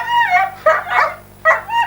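Guard dogs bark and yelp in short, loud bursts, three or four sharp calls close by with brief pauses between them.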